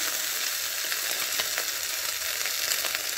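Eggs and tapioca frying in a pan give a steady, dense sizzle and crackle that stays close and even for the whole stretch, with no voices.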